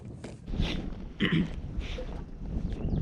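Wind gusting over a lake around a small fishing boat out after crappie in March, rough buffeting rumbles and hissing blasts against the microphone, rising and falling in uneven gusts.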